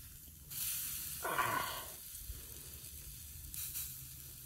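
Food sizzles on a swinging bushcraft grill set over an open fire, a few short soft hissing bursts as it is flipped, fairly quiet against outdoor background.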